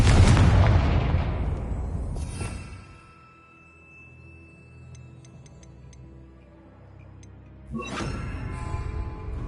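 A Confringo fire spell in the Hogwarts Legacy video game bursts as a loud explosion that decays into a quiet ringing tail with faint ticks, then a second sharp blast hits near the end.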